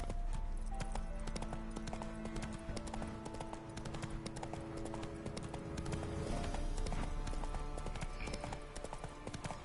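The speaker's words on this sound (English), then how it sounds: "Whoa there, Roach" A horse's hooves clip-clop steadily in The Witcher 3, a continuous rhythmic trotting layered over game music and ambient sound, fairly close.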